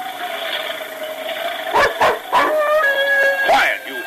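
A dog named Dan barks in several sharp bursts with whimpering yelps, close and loud, over a steady tonal background bed from an old radio drama.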